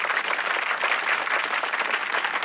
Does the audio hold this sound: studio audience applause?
yes